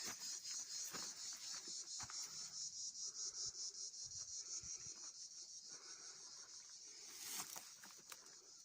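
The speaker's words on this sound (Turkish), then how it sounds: "Cırcır böceğinin sesi." A cricket chirps in quick, regular pulses, steady and fairly close, outdoors in Konya, Turkey, with a few faint rustles and taps in the background.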